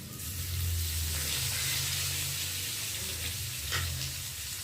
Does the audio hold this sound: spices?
yes